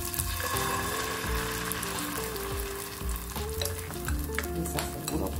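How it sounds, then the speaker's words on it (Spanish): Pepper tortilla frying in hot oil in a pan, giving a steady, close sizzle and crackle with faint stirring and utensil contact throughout, no talking. "Ahora vamos a poner en una sartén un poco de aceite, calentar"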